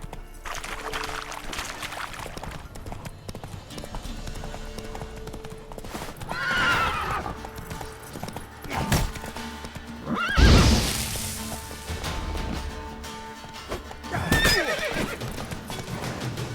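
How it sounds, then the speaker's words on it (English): Hoofbeats of a horse in the Witcher 3 video game clop rhythmically through a busy game soundscape, with several loud whinnies and snorts rising clearly above the steady hooves. "Run, Roach"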